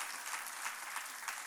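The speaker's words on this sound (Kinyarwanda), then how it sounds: "Amashyi ya Yesu cyane." A church congregation applauds in a brief, dense wash of clapping, fairly faint and distant, with no voice over it.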